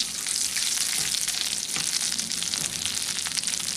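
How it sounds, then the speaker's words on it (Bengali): A spoonful of ghee sizzles in hot leftover oil in a pan while cooking masoor dal, a steady, loud, dense hiss that carries on without a break and has no talk over it. "এবারে এই বাদবাকি তেলের মধ্যে দিয়ে দিলাম আমি একটা চামচ ঘি"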